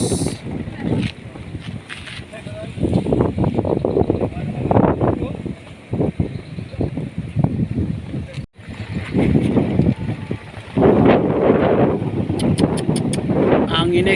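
Strong stormy wind roars and buffets the microphone steadily for the whole stretch, with gusts rising and falling and voices talking underneath.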